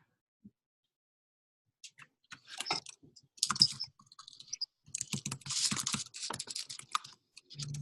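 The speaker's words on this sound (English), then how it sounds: "I'm hearing typing" Bursts of clicky keystrokes on a computer keyboard, starting sparse and building into steady, busy typing, close by with no talking.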